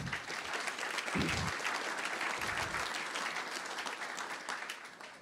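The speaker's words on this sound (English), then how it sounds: "Round of applause, please." An audience at a red meat industry forum applauds an executive chef, producing a sustained wash of clapping that fades slightly toward the end, with a few louder low thumps early on.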